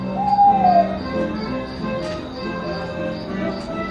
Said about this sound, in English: This trailer right here is emitting owl noises for some reason.